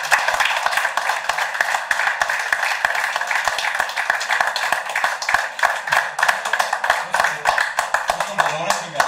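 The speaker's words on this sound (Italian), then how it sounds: "Io farei un grandissimo applauso alla signora." Audience applause for a woman at a film workshop in Verona: a steady, moderately loud patter of many hands clapping continues throughout, with a voice briefly audible underneath.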